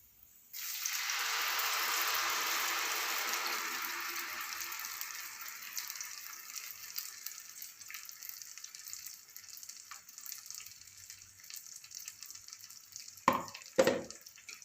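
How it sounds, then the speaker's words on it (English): Tomato puree poured onto browned garlic in hot oil sets off a loud, sudden sizzle that slowly fades to a quieter simmering crackle, followed by two brief clinks near the end. "Our garlic is brown, so now we can add in our tomato puree."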